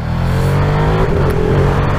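A Ducati Streetfighter V2 motorcycle engine drones loud and close at steady high revs, a continuous mechanical roar with no break over two seconds.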